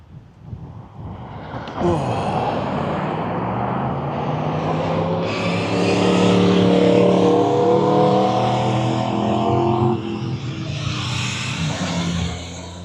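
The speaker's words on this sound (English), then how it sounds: "All these motorbikes, I don't know why they're over here" Motorbikes passing by on a coastal road near Port St Mary on the Isle of Man, a loud, sustained engine roar swelling and fading as several machines go past close by.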